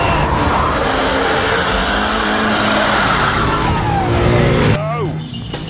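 Ascari KZ1 car driving hard with a loud, continuous engine roar, tyre squeal rising near the end, then a quick drop in engine noise as the car slows, with voices talking over it.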